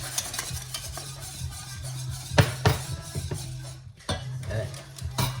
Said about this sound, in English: give it a final whisk to make sure that it's nice and smooth